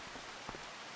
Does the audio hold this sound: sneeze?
no